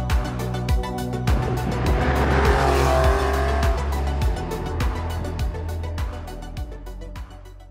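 A 2004 Porsche 911 996 Carrera 4S sports car drives hard on the road, its engine revving up and dropping repeatedly through gear changes, loud and close throughout.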